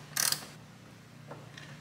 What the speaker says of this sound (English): Of course, this takes a 10 millimeter socket, the holy grail of doing anything with the Toyota Tacoma.